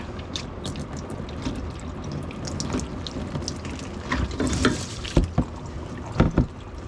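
Diesel fuel draining out of a Chevy 1500 Z-71 diesel truck's fuel filter, a steady splashing trickle with a few sharper drips and splats near the end, close and moderately loud.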